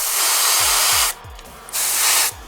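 Spray paint hosed from a can onto the horn of a miniature: two loud, steady hissing bursts, the first about a second long, the second starting after a short pause, close to the mic.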